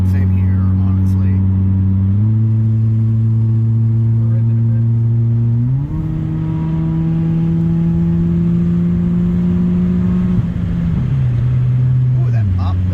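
A Honda Accord engine idles loudly and close, stepping up in pitch through several revs before dropping back, with a faint crackle near the end. People talk over it.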